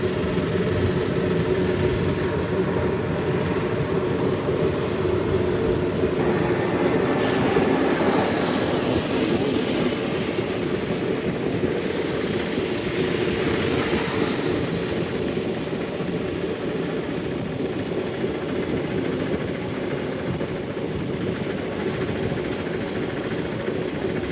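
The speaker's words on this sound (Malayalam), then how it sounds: "ട്രെയിനിൻ്റെ മണ്ടയ്ക്കൂടെ ഫ്ലൈറ്റ് ലാൻഡ് ചെയ്യുന്നത് കാണുന്നത്" Steady rumbling of a moving Chennai–Alappuzha Superfast Express train with the roar of a landing aircraft swelling overhead, a continuous loud wash of engine and rail noise.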